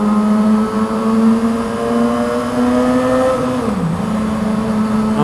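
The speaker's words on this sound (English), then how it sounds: "Fucking bike is loud in here." A Yamaha R6 sport motorcycle roars steadily inside a road tunnel, its loud, droning engine note reverberating off the walls and dipping briefly near the end before holding again.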